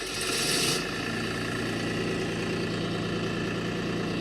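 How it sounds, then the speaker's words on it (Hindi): A tractor engine catches with a brief louder burst at the start, then settles into a steady, even idle that runs low and unbroken for several seconds. "आइए ड्राइवर जी थोड़ा ट्रैक्टर चालू कीजिए।"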